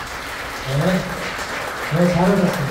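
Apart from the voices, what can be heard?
congregation applauding to welcome visitors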